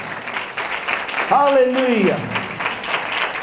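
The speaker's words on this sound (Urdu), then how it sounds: "زوردار تالیاں بجا دیجئے" Church congregation clapping continuously in the background while a man loudly calls out over them, the applause a steady wash beneath his voice.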